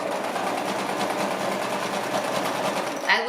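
A sewing machine runs steadily, stitching denim from old jeans into a purse, with a close, even whirring hum held for about three seconds before a small clack as it stops.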